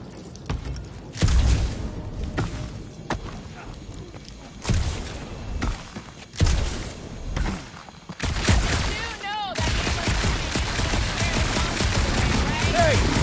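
Gunfire in the Guardians of the Galaxy video game: bursts of loud blasts and thuds separated by quieter stretches, followed by a busy mix of shots, effects and voices talking toward the end.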